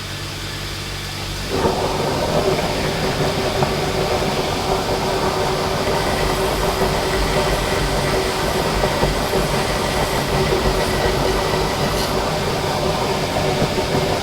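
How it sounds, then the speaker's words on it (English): A loud, steady mechanical roar kicks in after a moment and drones on without a break as a workshop exhaust fan and buffing wheel run together. "let's turn the exhaust on"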